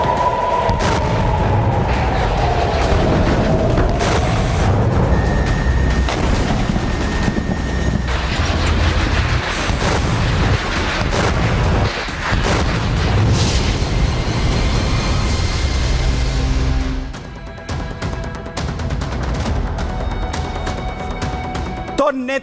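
Air strikes in Lebanon produce a dense, continuous roar of heavy explosions and booms, loud and sustained for about seventeen seconds before tapering into quieter rumbling.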